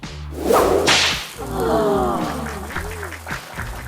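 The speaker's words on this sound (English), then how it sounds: "Let's give this a nice slap." A hot dog slapped onto a hot griddle gives one sharp, close smack, followed by a steady hiss of cooking.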